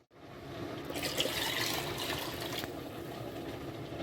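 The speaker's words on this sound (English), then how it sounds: "I think I need to go for one more round of water in the soup" Water poured into a pot of Ghana chicken light soup, a steady splashing, trickling flow that starts abruptly and runs continuously, close and fairly loud.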